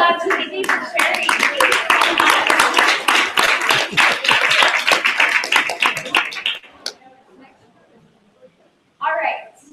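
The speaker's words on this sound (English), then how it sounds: "everybody, let's all have a round of applause to Izzy for sharing." Indoor audience clapping bursts out loudly, a dense run of hand claps lasting several seconds before tapering off, then a voice speaks briefly.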